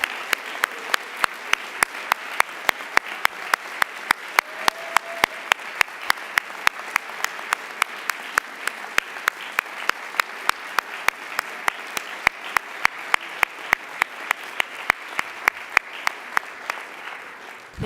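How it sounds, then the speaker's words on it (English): A long, even round of applause fills a hall at an annual general assembly, a dense wash of clapping punctuated by sharp, regularly spaced claps that hold steady for nearly eighteen seconds. "Big round of applause."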